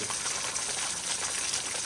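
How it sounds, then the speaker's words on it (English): A roughly 30-foot waterfall on a rainy-day woodland hike gives a steady, dense rushing roar, constant and close throughout. "so it's about a 30-foot waterfall altogether"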